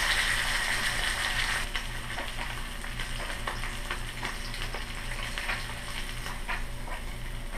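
Bluegill fish frying in a pan of oil, a steady close sizzle with scattered pops and crackles running throughout, no voices.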